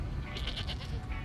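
Goats bleat in a short, quiet burst from a movie scene, several overlapping cries at a distance over a dull low background with no talking.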